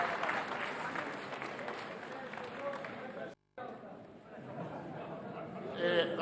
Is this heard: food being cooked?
no